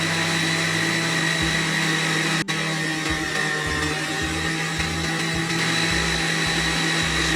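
An electric mixer churns a homemade carp-bait mix, a loud steady motor whine with a rhythmic pulsing grind as the blades work the dough, close and continuous with a brief cutout partway through.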